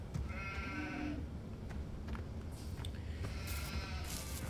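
Sheep at a livestock show bleat faintly a few times over a steady, busy background hum of crowd and hall noise.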